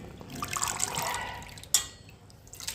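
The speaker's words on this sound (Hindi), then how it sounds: "मतलब अलट पलट करके हमें धो लेने हैं और साफ़ पानी में फिर डालने हैं।" Potatoes being rinsed and turned over by hand in a bowl of clean water, giving soft sloshing and dripping sounds with a brief sharper splash near the middle, fairly close and moderately quiet, with no talking.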